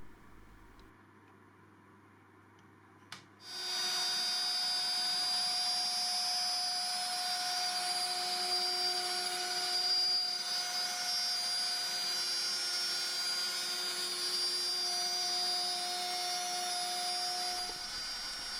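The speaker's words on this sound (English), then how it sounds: "I can set the depth stop to 18mm and start routing." Wood router with an 18mm depth stop cutting a circular slot in a board on a circle-cutting jig, a loud steady high-pitched whine that starts abruptly and runs continuously before cutting off near the end.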